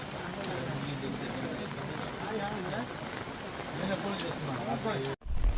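Heavy rain falls across Nellore district, a steady dense patter that runs continuously under faint voices before cutting off abruptly near the end.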